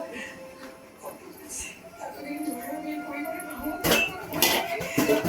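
A metal idli stand is set into a steamer pot of boiling water, giving a sharp metallic clank and rattle after soft handling noises, with a voice speaking alongside.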